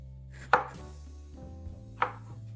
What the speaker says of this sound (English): Cut apples into small pieces and use a chopping knife.